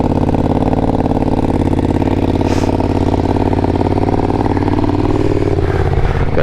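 A 2025 Ducati Panigale V2 fitted with an aftermarket exhaust idles loud and close, its steady throbbing rumble holding throughout with slight rises in revs near the end.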